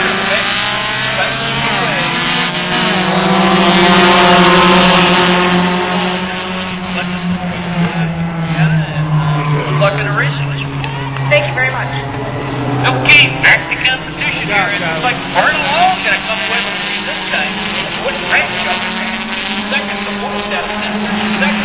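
Four-cylinder race cars circle Spencer Speedway, engines droning and shifting pitch as they pass through the turns, with a voice talking over the steady roar.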